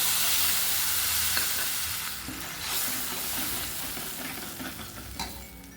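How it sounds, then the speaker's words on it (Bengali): Tomato and ginger paste fries in oil with cumin and bay leaf, a close sizzling hiss broken by scraping stirs that slowly softens over the seconds. "আমি বেটে রাখা যেই টমেটো আর আদার পেস্টটা রয়েছে সেটাও আমি দিয়ে দিয়েছি"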